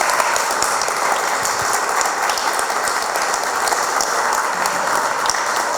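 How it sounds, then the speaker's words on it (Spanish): Audience applause fills an indoor conference hall at a meeting on enforced disappearance, a dense, steady patter of clapping from many hands that holds evenly throughout with no talking. "Sebastián Rey, que lo recibimos con un fuerte aplauso."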